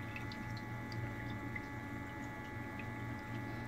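Quiet, steady trickle of water pouring off the leaves of a pineapple-shaped garden fountain, with faint drips and a low hum running underneath and no talking.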